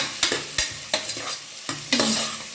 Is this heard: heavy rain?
no